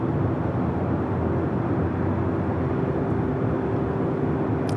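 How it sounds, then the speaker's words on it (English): A Virgin airliner arriving at Los Angeles airport from London Heathrow produces a continuous low rumbling jet drone with a steady tonal hum, moderately loud and unbroken, without any talking. "Like Virgin Flight 7 coming up from London Heathrow, also heading to the south side."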